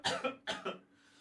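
Two pairs of quick, harsh coughs from one person come in short bursts, fairly close, followed by a quiet tail with no speech.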